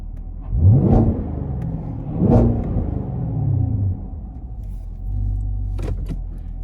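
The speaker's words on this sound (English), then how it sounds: "Gonna go ahead and do a nice rev here." A 2020 Chevy Camaro with the LT1 6.2-liter V8 revs twice in sharp, loud blips that each drop back to a deep, rumbling idle, followed by a steadier throaty hum, close and with no talking.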